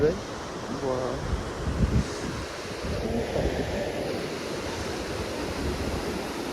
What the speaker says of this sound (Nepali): यो चाहिँ मलङ खोला